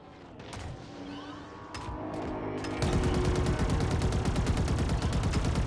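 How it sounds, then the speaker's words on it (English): Rapid automatic fire from a Shade turret in the video game Halo Infinite during a Firefight match, building from scattered shots into a loud, continuous burst of dense, evenly spaced rounds with no talk. "Oh, the shade turret doesn't have a cooldown."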